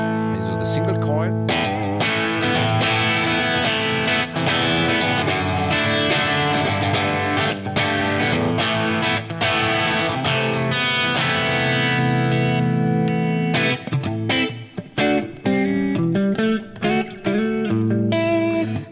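Single-coil electric guitar played through a Fractal Axe FX3 rock preset, with steady strummed chords and picked riffs running continuously for about nineteen seconds, loud and close, ending in choppier stabs.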